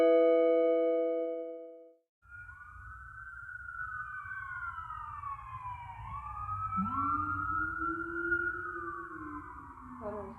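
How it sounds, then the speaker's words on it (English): Emergency vehicle sirens wail at night near Euclid and Hall Boulevard, several overlapping rising and falling tones sweeping loudly over a steady traffic rumble, after a brief fading horn-like tone. "have been sounding the siren, incessant sound of sirens"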